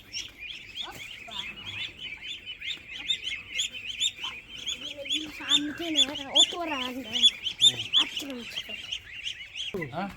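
A small-breed rooster gives a run of clucking, chirping calls that rise into a louder burst of harmonic crowing cries near the middle, heard close against a quiet yard background.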